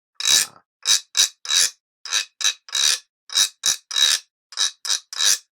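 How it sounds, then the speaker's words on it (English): A guiro is scraped in a quick rhythmic pattern of short rasping strokes, some in fast pairs. The strokes are close and crisp, with no voices. "if I were going to play it on my guiro, I would play it like this"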